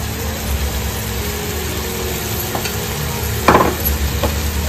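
Oyster tawa fry being stirred in a pan, a low continuous sizzle with a few sharp scraping clinks of the utensil, one louder scrape near the end.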